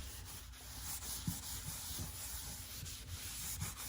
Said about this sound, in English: So aging wax is going straight on.